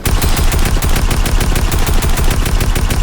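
Rapid automatic gunfire in a shooting video game, a dense, continuous loud volley of shots lasting several seconds with no pause and no talking.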